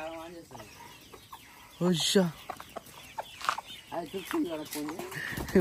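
Hens and a rooster cluck in short, agitated bursts close by, with a loud flurry near the middle and excited human voices mixed in.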